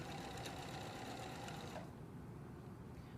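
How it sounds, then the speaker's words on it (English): Sewing machine running steadily as it stitches a straight 5/8 inch seam down the inner leg of a pair of pants, a continuous close whirring that stops near the end, leaving a quiet room. "you're just going to sew straight all the way down the side of the pants on the 5/8, taking out pins as you go"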